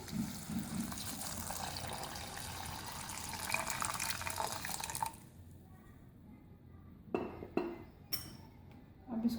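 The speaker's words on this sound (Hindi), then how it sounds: "गिलास पानी शामिल करेंगे।" A glass of water poured into a pan holding apricots, a steady splashing pour lasting several seconds, followed by quieter clinks and a few short splashes near the microphone.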